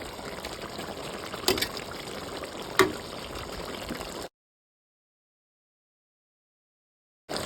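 Water is poured into a cooking pot of pork igado, splashing and trickling steadily for about four seconds with two brief louder sloshes, then silence before a short burst at the end.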